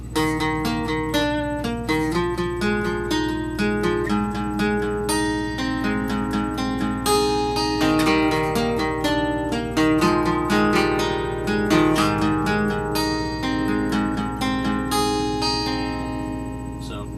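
Two guitars strum chords together in a steady rhythmic pattern, ringing and layered, fairly loud and close, with no one talking.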